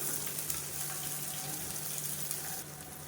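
Mustard seeds, chana dal, curry leaves, green chillies and chopped onion frying in oil, a faint, steady hiss and crackle throughout with no talking.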